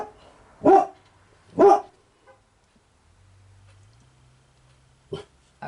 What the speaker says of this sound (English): There's a big dog in here.